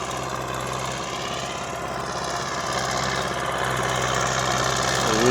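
An MTZ-80 tractor on rubber tyres works its engine steadily while pulling a PLN plow through a field, a continuous rough diesel drone with fine knocking texture that swells slightly louder toward the end, with no talk.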